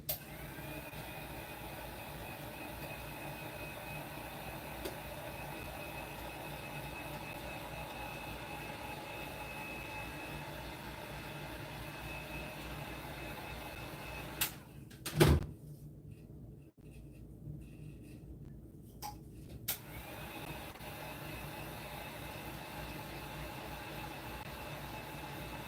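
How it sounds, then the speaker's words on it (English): A heat gun blows hot air onto craft glue, a steady, low, even roar that holds for most of the span, cut off for a few seconds by a clunk and then resuming. "I'm going to go shoot my heat gun on this real quick"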